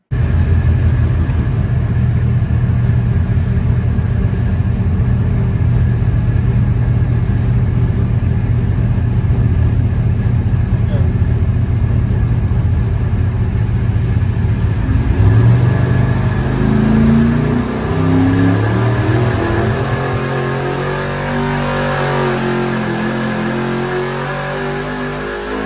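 A 615 cubic inch big-block Chevrolet engine drones steadily at high revs on a dyno, then climbs and shifts pitch as it winds up, loud and sustained with no talking.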